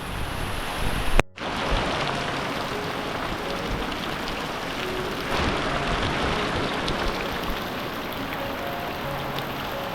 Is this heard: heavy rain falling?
yes